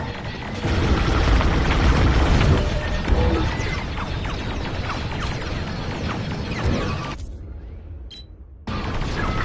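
A space battle in the Star Wars Squadrons video game gives off rumbling explosions and crashes over steady engine and weapon noise, then a brief silence before the din resumes.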